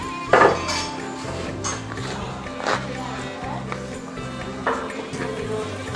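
Pots, pans and utensils clink and clatter at home while climbing perch (koi fish) is cooked, with a few sharper metallic knocks over a steady background and someone talking nearby.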